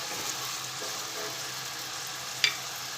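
Finely cut potatoes sauté in hot oil for sabudana khichdi, giving a steady close sizzle with a single sharp clink of a utensil near the end.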